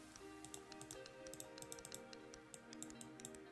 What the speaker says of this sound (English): That's me clicking a pen.